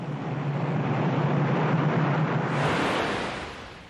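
Huge ocean wave surging against Antarctic ice in an ice-strewn bay, a loud continuous roar of churning water and wind that holds steady for several seconds and then slowly eases off.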